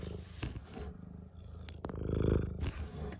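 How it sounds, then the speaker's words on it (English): A cat purrs up close in low rumbling pulses that swell and fade, with a few soft rustles between. "He's meowing at me."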